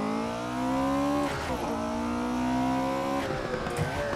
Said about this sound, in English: Got the revs up in that flat 8. Drop the clutch, and away we go.